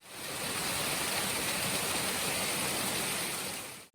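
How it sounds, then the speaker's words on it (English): A waterfall pours in a steady, loud, unbroken broadband rush, close and alone, that holds even for the whole stretch before cutting off abruptly. "Waterfalls come in all shapes and sizes."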